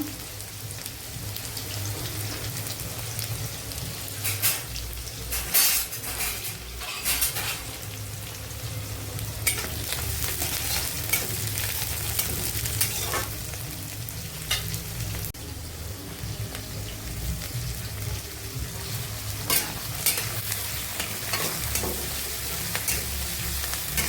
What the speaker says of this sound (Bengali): এই যে মাছের তেল বসিয়ে দিলাম, পেঁয়াজ কুচি দিয়ে দিলাম